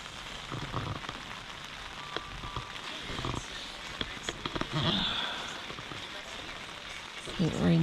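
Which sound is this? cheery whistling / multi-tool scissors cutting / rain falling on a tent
rain falling on a tent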